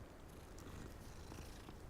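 A cat purring as it is petted in Hogwarts Legacy on Nintendo Switch, a soft continuous rumbling purr that is faint and steady throughout, with no talking over it.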